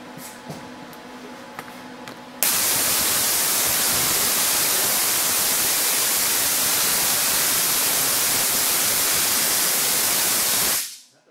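A BTC70 machine runs steadily at about 1,000 RPM, a loud, continuous broadband hiss-like roar that starts abruptly after a quieter stretch and cuts off near the end.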